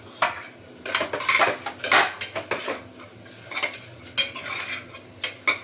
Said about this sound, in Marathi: हे असं चांगलं तेलामध्ये परतून घेतलं आहे बघा हे मसाले